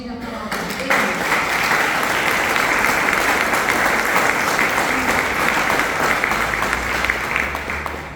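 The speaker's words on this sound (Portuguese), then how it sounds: "Vamos aplaudir a palavra de Deus" A church congregation applauds loudly and continuously after a scripture reading, a thick steady wall of clapping after a brief quieter start, with some voices mixed in.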